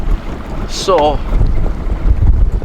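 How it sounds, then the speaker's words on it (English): Strong wind buffets a fishing boat on a lake, rumbling loudly in low gusts against the microphone, while a short spoken word and a brief whistling squeak cut through. "Well, it's a pretty windy one out here today."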